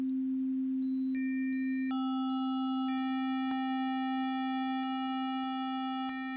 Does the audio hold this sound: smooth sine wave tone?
yes